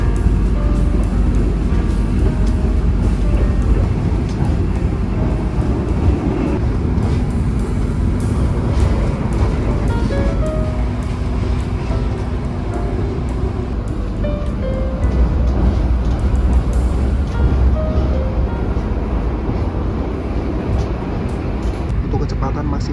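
Steady, loud rumble of the Gajayana Luxury passenger train running from Jakarta, heard from inside the carriage, with constant low rolling noise and faint rattles throughout, with no speech.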